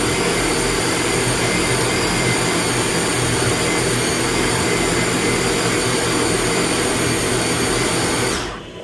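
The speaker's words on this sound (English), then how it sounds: "It's easier, in the food processor." A food processor on high speed grinds pork, a loud, steady, continuous motor whir with grinding noise that runs unbroken for about eight seconds before cutting off abruptly.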